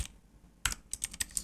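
Quick bursts of keystrokes on a computer keyboard while entering programming code, a short pause and then about five crisp, close taps in an irregular rhythm, with no voice.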